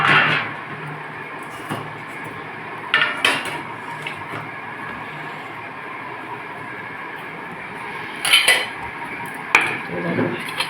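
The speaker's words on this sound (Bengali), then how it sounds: "বড় ঢাকনাগুলো সব খুলে নিই" Big metal lids clanking off cooking pots in a kitchen, several sharp clattering bangs spread over a background of steady rumbling noise, with brief speech between them.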